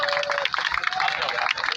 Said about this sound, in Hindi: एक बार जोरदार ताली बजाओ भाई